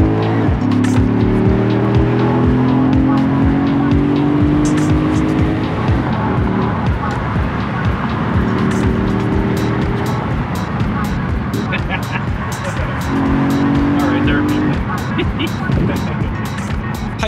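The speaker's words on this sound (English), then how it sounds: "The Porsche was driving amazing." A Porsche Spyder RS sports car climbing the Pikes Peak road fills the whole stretch with a loud, steady engine drone that rises and falls through the gears, with voices talking over it.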